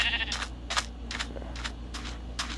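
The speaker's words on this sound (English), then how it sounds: "There's like three sheep over here." Sheep in the video game Minecraft bleat in a rapid run of about six short, evenly spaced calls, moderately loud over a low steady hum.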